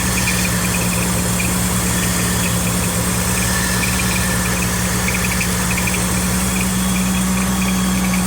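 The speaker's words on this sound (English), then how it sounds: "Don't know if that's power steering or that's the alternator chattering" A car engine idles steadily and loudly close by, with a constant low hum and a faint rapid chatter that could come from the alternator or power steering, with no talk over it.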